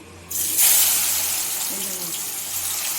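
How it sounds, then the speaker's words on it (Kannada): Battered cauliflower pieces for palak gobi lowered into hot oil, a sudden loud hiss and sizzle of deep frying that steadies into continuous bubbling crackle, close by. "ಈಗ ಎಣ್ಣೆಲಿ ಬಿಡೋಣ. ಹಂಗೆ ನೋಡಿ, ಬಿಡ್ತಾಯಿದ್ದೀನಿ."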